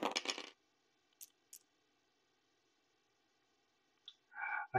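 Dice rolled all at once in a tabletop wargame: a brief clattering burst of dice tumbling, a couple of small ticks, then quiet before a final short rattle, close and crisp.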